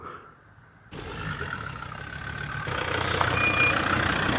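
A car engine roars nearby outdoors, a low rumbling drone that kicks in abruptly after a quiet moment and grows louder and fuller over the following seconds, with no talking.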